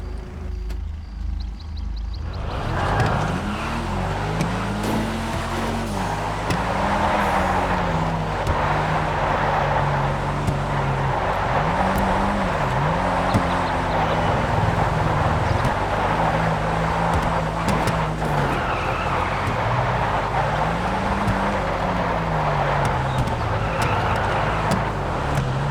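A ZR350 drifts nonstop in GTA 5 during a drift event, its engine revving in long wavering whines that rise and dip with each slide, loud and steady throughout.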